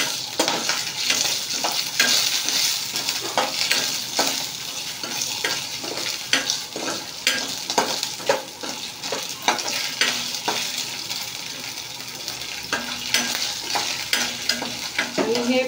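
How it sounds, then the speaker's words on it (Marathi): Dry fruits roasting in very hot oil in a pan for coconut rice, giving a steady loud sizzle and crackle with repeated sharp scrapes and clicks of a spoon stirring against the pan, close up and without talk. "त्याचबरोबर हे ड्रायफ्रूट टाकते आणि मी गॅस घालवते कारण तेल खूप तापलेलं आहे, इथं जळून जाईल।"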